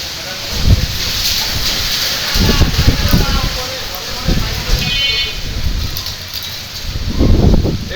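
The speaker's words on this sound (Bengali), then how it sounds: "শুধু বাতাসই হচ্ছে, বৃষ্টির কোনো দেখা নেই।" Gusty wind roars and rustles through trees in the first storm of Baishakh, with no rain falling. A steady broadband rush rises into repeated deeper gusts close to the microphone.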